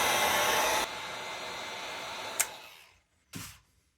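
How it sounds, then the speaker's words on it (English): A heat gun blows steadily while heating the piston bearing on a chainsaw to push it out, its airy roar dropping in level partway, then cutting off, followed by a couple of sharp clicks. "Instead of using a torch, we're going to use a heat gun."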